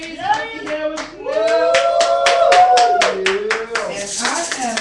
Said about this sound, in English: hand clap praise